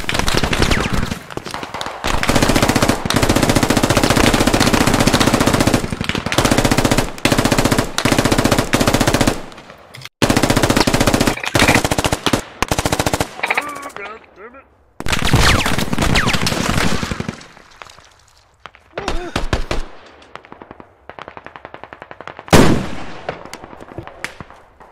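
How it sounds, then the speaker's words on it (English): Machine gun fire in the video game Squad, long loud bursts of rapid automatic shots with brief pauses between, later thinning into scattered shots and quieter stretches. "Look at the machine gun from all the way back behind"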